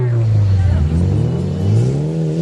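A 4x4 off-road vehicle with a broken front differential, running in two-wheel drive, revs its engine hard while climbing an incline after crossing a tire pit at a 4x4 challenge event. The engine drones loudly and steadily, its pitch rising and falling.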